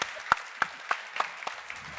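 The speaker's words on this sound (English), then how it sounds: "give them a round of applause" A few hands applauding a panel at a crypto conference, sparse individual claps spaced about a third of a second apart, fairly quiet and thin rather than a full crowd.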